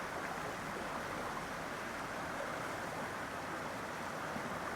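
River rapids at Carkeek Park in Seattle rush in a steady, dense roar of churning water, constant and unbroken throughout.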